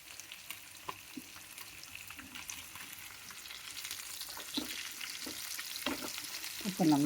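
Marinated pieces shallow frying slowly in oil, giving a steady soft sizzle throughout with a few light clinks of a utensil, growing slightly louder toward the end, with no talking.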